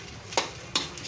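Nasi goreng being stir-fried in a pan, with two quick scraping stirs of a utensil over a soft steady sizzle, heard close up with no talk.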